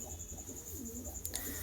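Giribaz pigeons in a loft near Basdroni give soft, low, rolling coos at close range over a steady murmur of background noise, with a brief sharp click near the end.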